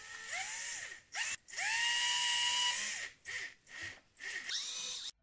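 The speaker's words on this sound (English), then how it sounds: "You need a 4mm drill to make the holes in the PCB." A small 4mm drill boring holes in a PCB, with several whining bursts that rise and fall in pitch, separated by short pauses, heard close and without speech.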